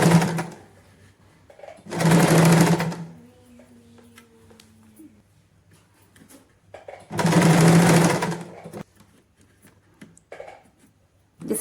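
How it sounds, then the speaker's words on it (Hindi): Domestic sewing machine stitching an invisible zip onto palazzo trousers, heard as two loud, steady whirring bursts of a couple of seconds each, close up, separated by quieter pauses with faint handling noise. "तो स्टिच लगाते हुए हमने जिप को इस तरह से खोलना है ताकि हमारी जो स्टिच है वो एकदम पास में ही लगे।"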